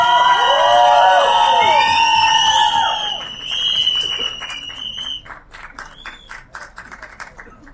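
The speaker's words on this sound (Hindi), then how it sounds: "तालियां सीटियां रुकनी नहीं चाहिए यार" A crowd at a film trailer launch cheers with loud, rising whistles and shouts layered over clapping, strongest at first and then easing into scattered claps and fainter whistles.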